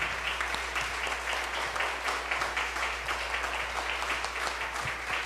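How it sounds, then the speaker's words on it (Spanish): A church congregation applauds steadily throughout, a dense, even wash of many hands clapping together with no pauses or voices standing out. "Dale un aplauso al Señor."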